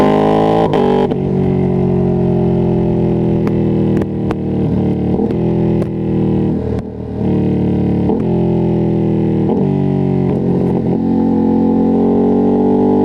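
A Ducati Streetfighter V2S motorcycle engine pulls hard at high revs on a road ride, a loud, close droning roar whose pitch climbs steadily, broken by a few quick gear-shift dips.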